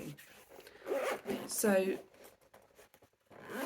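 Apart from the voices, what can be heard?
zip on a car go bag being opened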